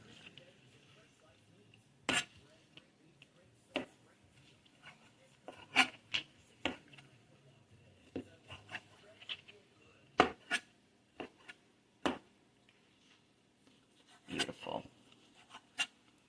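A knife chops raw ingredients on a board in scattered, sharp, fairly faint taps, some single and some in quick clusters, across a quiet kitchen.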